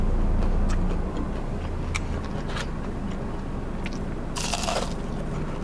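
Close bites into crispy fried banana give a few sharp crunches scattered over a low steady background hum, with one longer crunchy burst toward the end and no talking.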